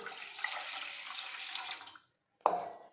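Water is poured into a cooking pot for steaming, a steady close splashing stream that stops abruptly, followed by a sharp clink after a brief silence.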